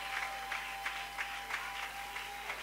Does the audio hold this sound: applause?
yes